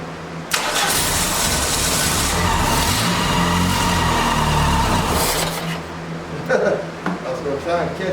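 A junkyard 1989 Dodge Daytona car engine cranks and catches, then runs loud and rough for about five seconds before cutting out, leaving faint clunks and handling noises.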